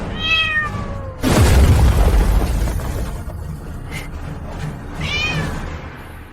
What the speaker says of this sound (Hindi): यह मेरी पत्नी की पसंदीदा बिल्ली है।